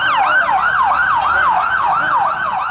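Ambulance siren wailing in a fast, repeating up-and-down sweep on the streets of Beirut after an attack, loud and steady over faint traffic noise.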